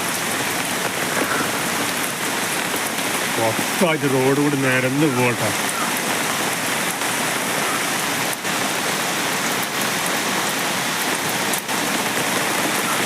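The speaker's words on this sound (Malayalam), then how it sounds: "രാവിലെ നല്ല മഴയാണ്" Heavy rain pours steadily throughout under a culvert bridge on NH 66 at Randathani, Malappuram, a dense hiss of drops on surfaces, with a person speaking briefly over it near the middle.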